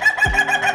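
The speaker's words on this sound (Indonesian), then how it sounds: "Ayam ini disebut ketawa karena bunyi memiliki suara kokok yang sangat khas, mirip dengan suara tertawa manusia" A single ayam ketawa rooster, an Indonesian breed from Sidrap, South Sulawesi, gives a short, close crow with a warbling tone like human laughter.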